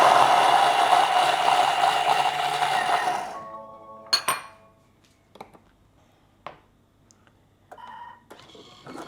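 A food processor chops ginger and chilies at speed 7 in a brief loud whirring burst lasting about three seconds, then stops, followed by scattered clinks and rattles.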